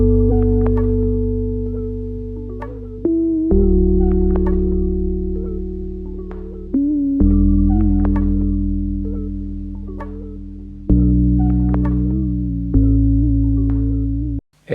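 Lo-fi chord progression loop from a sample pack, sustained electric-keys chords changing every few seconds with soft plucked accents, warm and mellow, playing alone without talk.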